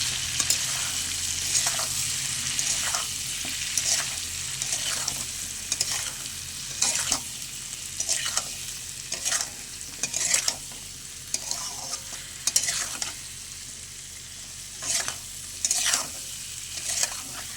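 Tomatoes, chili powder and salt sauté with drumstick stalks and potato in a pan, a steady close sizzle broken by repeated scraping stir strokes of a spatula at a loose, uneven rhythm.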